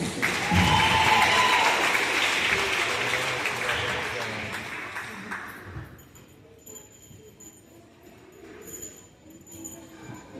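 Clapping from a school rewards assembly audience: a loud burst of applause that steadily thins and fades over several seconds, leaving scattered claps and quiet room noise with faint voices.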